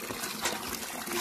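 Water from a tap runs into a bucket, a faint, steady splashing trickle lasting about a second with no other sounds over it.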